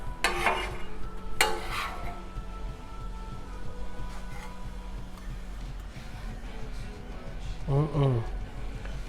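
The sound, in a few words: sausage, egg and veggies sizzling on Blackstone griddle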